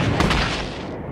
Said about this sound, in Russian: Отличный выстрел, Барр.